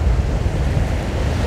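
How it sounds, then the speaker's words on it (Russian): Stormy Black Sea surf off Anapa churns in a dense, unbroken roar, with gusting wind buffeting the microphone throughout. "Смотрим, море чистое, течение в Анапу, шторм раздувает."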